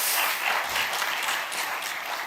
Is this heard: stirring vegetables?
no